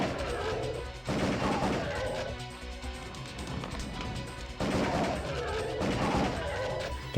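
Bursts of rapid gunfire from the Area 51 light-gun arcade shooter on PS1, played with a Justifier gun, with loud crackling volleys and crashes coming in several dense waves.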